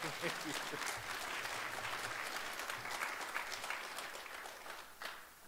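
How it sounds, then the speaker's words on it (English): Conference attendees at a library technology gathering clap together in a steady, moderately loud round of applause that thins slightly near the end. "That definitely deserves an applause there"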